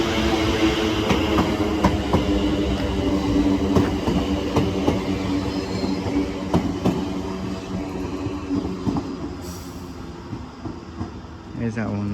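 A Class 710 electric train pulls into Barking station with a loud, close rumbling run, repeated rhythmic wheel clacks over rail joints, and a hiss that tapers as it slows, while someone talks over it.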